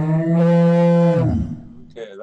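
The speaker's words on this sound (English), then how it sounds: "Cow moo" A cow moos once in a loud, long, sustained low call that trails off into a quieter snort, close and clear.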